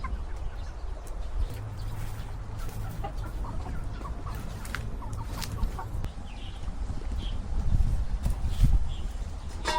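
Chickens cluck and murmur in a farmyard where horses are also kept, with scattered sharp clucks and soft calls over a low rumbling background and faint clip-clop; no clear talk.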